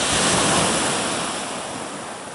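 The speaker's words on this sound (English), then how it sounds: "look how calm the sea is" Calm sea waves off the coast of Jamaica, a steady broad wash of surf mixed with wind noise on the microphone, loud and continuous with no voices.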